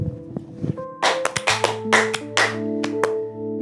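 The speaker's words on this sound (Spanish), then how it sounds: "Aplauso, nos vamos con un aplauso." A small audience closes an interview with a few sharp, scattered handclaps, close and irregular, over sustained tonal notes in the background.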